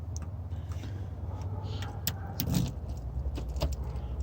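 A key works the door lock of a 2018-or-later Nissan Murano with a faint metallic click and rattle, then a sharper clack of the latch, quiet and close against a low background hum.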